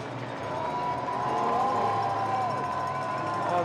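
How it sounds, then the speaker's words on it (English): Spectators at the Red Bull Joyride slopestyle mountain bike event at Crankworx 2017 in Whistler, Canada, cheer for rider Nikolai Rogatkin after his crash, a sustained crowd roar with wavering horn-like tones that swells midway. "The crowd cheering for him"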